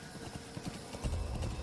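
Horse hooves clip-clop at a walk in Metal Gear Solid V: The Phantom Pain, a quick run of close, fairly loud thuds on the ground, with no voices.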